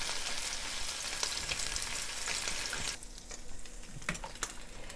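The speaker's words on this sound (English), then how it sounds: "I love that sizzle sound. Sounds so good." Spam slices sizzle and crackle steadily in a hot frying pan, a dense frying hiss that eases slightly partway through, with scattered pops.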